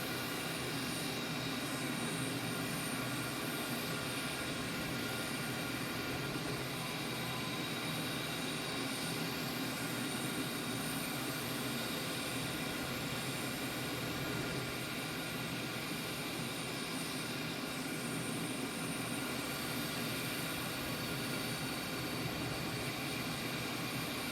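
Steady, loud whine and roar of the IndiaFoxtEcho M346 jet engine in Microsoft Flight Simulator 2020, a continuous cockpit drone with a high hiss that holds level and unbroken throughout, no talking.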